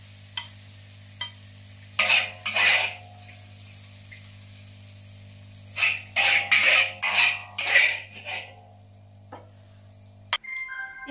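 Soybean sprouts are stir-fried in a pan at home, heard as several short bursts of scraping and tossing with a light sizzle over a steady low hum, separated by brief pauses.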